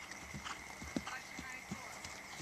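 A horse cantering in a riding lesson, its hooves striking in a steady three-beat rhythm of soft, close thuds over a low murmur of background sound.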